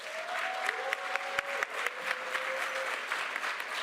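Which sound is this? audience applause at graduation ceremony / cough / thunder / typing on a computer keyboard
audience applause at graduation ceremony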